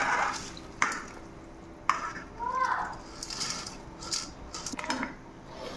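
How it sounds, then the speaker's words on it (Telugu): Drained basmati rice goes into a pot of boiling water for pulao, heard as close clinks, scrapes and a soft hiss and stir of grains, faint and intermittent, with no talking. "వడగట్టిన బియ్యాన్ని ఇందులో వేసుకుంటున్నాను."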